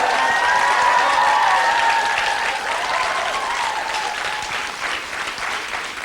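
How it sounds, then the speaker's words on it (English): A studio audience at a high school English quiz championship show bursts into loud, sustained applause that fades slightly over about six seconds, with no one speaking. "49ers getting a big round of applause from the audience."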